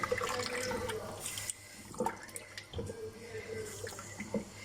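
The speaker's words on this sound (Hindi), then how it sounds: "अब हम इसके अंदर पानी का ऐड करेंगे" Water splashes and pours into a cooking pot of aloo gosht, with soft liquid gurgling and a few clinks, fairly quiet and close.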